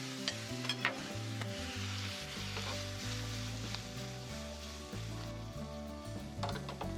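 Abalone sizzles steadily in butter in a hot pan while a utensil scrapes and stirs, with a low musical background humming beneath.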